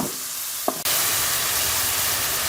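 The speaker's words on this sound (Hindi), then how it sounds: "मैं अच्छी तरह से इसे भूनूंगी कलर चेंज होने तक कीमे को।" Minced meat keema frying with garlic in a hot pan, a steady loud sizzle that cuts in abruptly after a brief quiet stir and clink, then holds evenly to the end.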